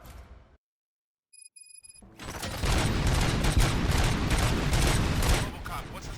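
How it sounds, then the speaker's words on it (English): Gunfire in RoboCop: Rogue City, a dense burst of rapid overlapping shots and impacts that erupts loudly after a brief quiet with a few electronic beeps, sustained for several seconds, with a voice speaking briefly. "Gunshots? What's going on?"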